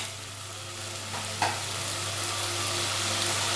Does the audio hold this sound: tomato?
yes